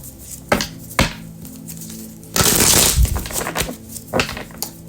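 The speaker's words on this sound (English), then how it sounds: "This deck doesn't want to shuffle." A tarot card deck being shuffled: a few sharp separate card taps, then a longer burst of riffling cards, followed by more scattered taps.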